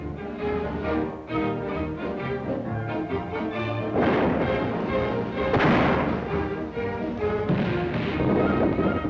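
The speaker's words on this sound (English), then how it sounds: "thousands of anti-aircraft guns, and thousands more in production, America's coasts must be invulnerable" Anti-aircraft guns firing in repeated heavy booms and rapid reports, with louder blasts clustering midway through, heard over a steady roar in an old wartime newsreel recording.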